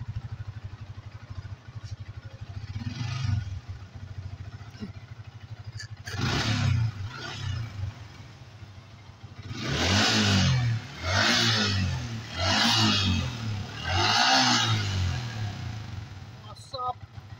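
A Yamaha Vixion motorcycle with an ignition fault and stalling trouble runs close by, rumbling at idle and then blipping through several rising and falling revs, as someone talks over it.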